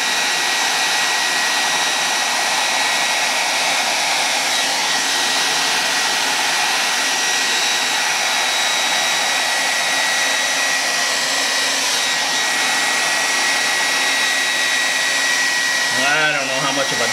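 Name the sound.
hair dryer blowing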